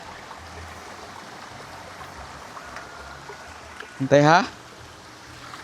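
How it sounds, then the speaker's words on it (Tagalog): A mountain stream in Cebu rushes in a steady, even wash as it is crossed, with a brief voice calling out near the end. "Agi mig kuan sapa."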